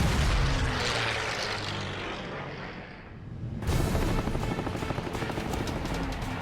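A WWII Messerschmitt Bf 109 fighter, shot down and tumbling, droning as its engine roar sweeps down and fades, then a harsher, louder engine rush with rapid rattling takes over, heard at a distance with no voices.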